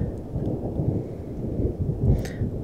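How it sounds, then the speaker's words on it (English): Thunder rolls and rumbles low and heavy during a thunderstorm with rain, a continuous deep grumble that swells near the end, heard at a lakeside island campsite. "we hope it's soon gonna quit with the thunder"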